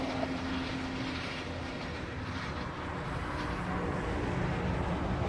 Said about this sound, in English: We're still waiting on a Hawaiian Flight 10 to depart from the reef runway